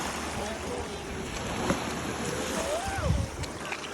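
A boat moving on open water during a family getaway, with a steady broadband wash of wind and water and a few voices speaking over it.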